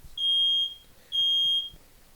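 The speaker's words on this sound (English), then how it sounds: "My fire alarm just went off." A home fire alarm sounds two long, piercing electronic beeps about a second apart, loud and alone over faint room noise.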